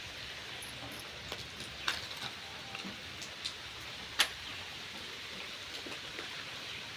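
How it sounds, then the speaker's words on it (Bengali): Rain falls outside as a faint, steady hiss, with a few soft ticks and taps of drops scattered through it and no voices. "চলো শোনা, বৃষ্টি পড়ছে, ঘরে চলো।"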